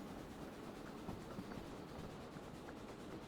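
A train rolls steadily along the rails, a continuous low rumble with faint rhythmic clatter heard from the cab at around 40, with no talk.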